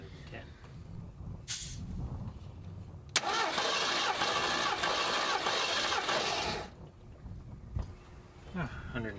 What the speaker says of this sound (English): That way we get the maximum amount of airflow to each cylinder for the test.